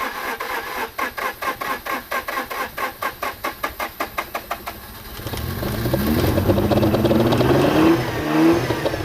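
Project car engine that had stood unused for over two years, heard cranking in a rapid rhythmic chug before catching and settling into a rough, uneven running idle with occasional revs.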